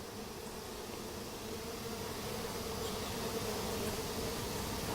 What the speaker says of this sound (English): there's a ton of bees on every single wall inside here